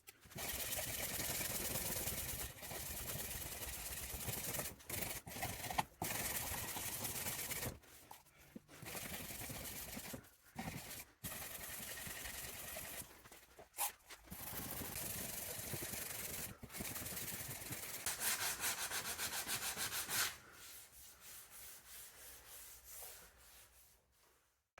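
Body filler on the wing of a salvaged Aston Martin DB7 V12 is sanded by hand, a loud, close rasping scrape in long repeated strokes with short pauses between them, finishing with a quieter stretch.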